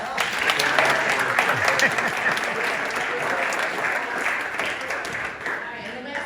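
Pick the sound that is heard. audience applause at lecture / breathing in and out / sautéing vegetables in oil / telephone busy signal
audience applause at lecture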